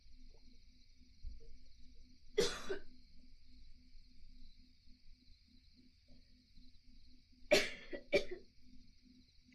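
Two separate bursts of coughing after swallowing water wrong, one early and a harsher double cough later, close by over a quiet room with a faint steady hum.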